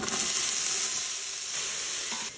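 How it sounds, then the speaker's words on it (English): Onions sautéing in oil in an Instant Pot set to sauté for an Afghan beef stew, giving a steady close sizzle with a bright hiss that holds evenly for a couple of seconds before easing off. "Add our onions"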